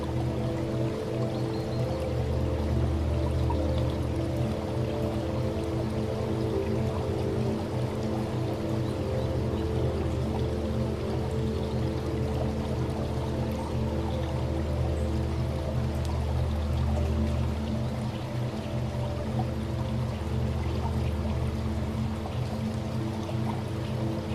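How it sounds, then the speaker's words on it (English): Water pours steadily while freshly planted seeds are watered, a continuous smooth stream running unbroken and fairly close for the whole stretch, with no voices. "let's go ahead and water these seeds"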